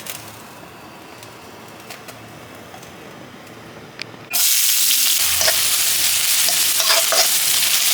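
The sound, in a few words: frying carrots and raisins in a pan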